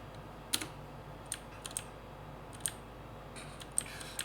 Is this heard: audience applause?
no